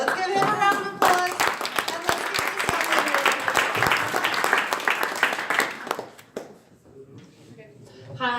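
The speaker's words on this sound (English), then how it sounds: "Let's give him a round of applause." Audience applause at a fintech startup weekend opening ceremony in Geneva, a dense wash of clapping with a voice over the start, fading out near the end as a speaker begins talking.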